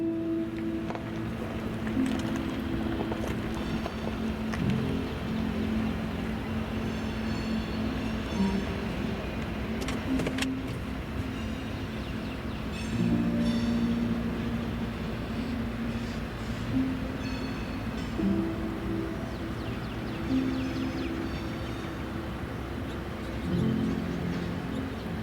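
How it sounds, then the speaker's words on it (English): A northbound freight manifest train rolls past in a long, steady rumble with a droning, rhythmic clatter of wagons, loud and continuous throughout. "as a northbound manifest went by"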